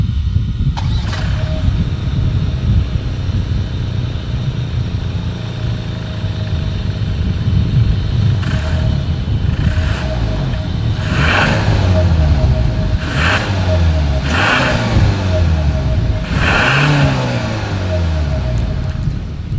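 Hyundai Santa Fe exhaust with a chrome tip, a steady low engine rumble that rises and falls in several rev swells toward the end, recorded close to the tailpipe.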